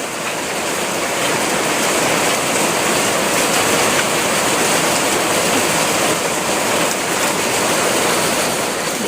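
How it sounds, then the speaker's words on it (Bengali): Heavy rain pouring down steadily outdoors at a home during a downpour, a dense continuous wash of noise that stays loud and even throughout with no voices. "এখন তো ভীষণ জোরে বৃষ্টি নেমেছে দেখো।"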